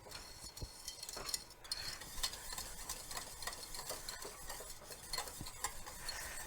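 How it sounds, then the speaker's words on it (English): A spoon stirs hollandaise sauce in a pan, scraping steadily with soft clinks and light sizzling underneath, close and fairly quiet, with no talking. "So we're just going to stir 1 more minute here."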